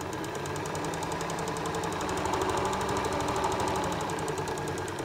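A sewing machine stitches ear shapes for an egg cosy into fabric, a fast, even mechanical whirring and ticking that runs close and unbroken throughout.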